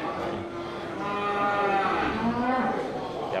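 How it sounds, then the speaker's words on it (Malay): Large local fattened cattle at a livestock sale stall give a long, loud, drawn-out moo that rises and holds for about three seconds, with faint background chatter. "sapi ukuran besar"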